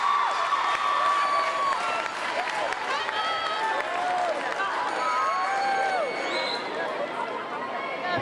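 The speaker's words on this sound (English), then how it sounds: "graduates, I need you to give a round of applause to all these people that help you be what you can" Graduates at a middle school graduation ceremony applaud their supporters, a broad crowd clapping mixed with cheers and lively chatter, with whistle-like squeals and voices rising over the sustained sound.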